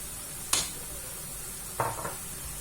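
Softened zucchini and garlic frying in a pan, stirred with a utensil: a sharp scrape, then a couple of quieter clinks, over a faint constant sizzle.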